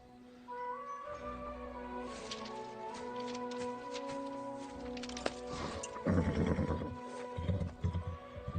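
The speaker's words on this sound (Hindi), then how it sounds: "ये घोड़ा तुम ले लो।" A horse neighs over dramatic music in a dubbed Chinese fantasy film, and hoof clatter and rustling come in near the end. The sounds are moderately loud and no one speaks.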